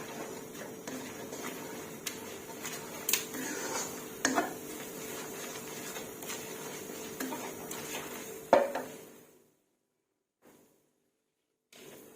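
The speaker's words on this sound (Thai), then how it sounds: "เปิดไฟกลาง เคี่ยวน้ำพริกให้หอมค่ะ" Thai curry paste simmering in a pot for a chicken and winter melon curry, with a steady close sizzle and occasional spoon knocks while it is stirred, then dropping away to near silence.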